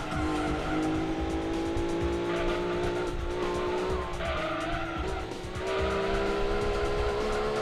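A Dodge Viper race car roars through a Gran Turismo 2 race, with a loud sustained engine drone, rising and falling pitch and screeching tire squeal on the corners, continuous and close throughout.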